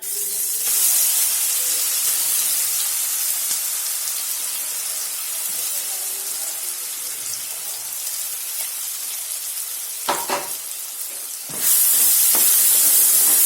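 Ginger garlic paste sizzling in hot oil for a chicken korma, a loud steady hiss that fades slightly, then swells again in a sharper burst toward the end, with a few clinks in between.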